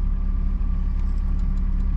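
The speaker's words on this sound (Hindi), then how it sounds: "आपने क्या एकदम से गाड़ी घुमा दी" A car driving and swinging through a turn on a road in Kirthar National Park, Sindh, Pakistan, giving a steady, close, low engine rumble with no pauses and no voices.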